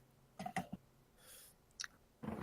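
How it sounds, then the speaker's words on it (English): Someone chewing on food close up, a few soft wet chomps and clicks in short bursts with quiet pauses between them. "One second, I'm chewing on something."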